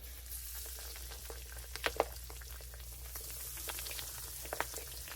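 Squash frying in oil heated to about 395 degrees in a cast iron pan, a steady soft sizzle with scattered crackles and pops, fairly quiet and close.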